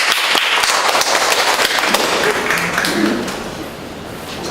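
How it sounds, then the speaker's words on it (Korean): A dense crowd of clapping hands greets a presenter at a startup demo-day event, loud and sustained, then easing slightly toward the end. "큰 박수."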